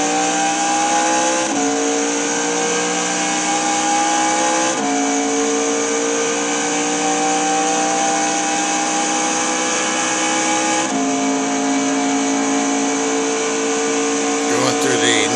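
In-car engine drone of a Trans Am race car on a warm-up lap at Le Mans in a racing video game, loud and steady throughout, with sustained whining tones that shift pitch at gear changes.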